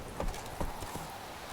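Horse hooves clip-clop in the video game The Witcher 3: Wild Hunt, a few distinct hollow knocks in an uneven gait over a dense, steady game ambience.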